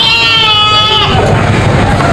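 A goat at a livestock market gives a loud, close wavering bleat over a dense, noisy crowd background.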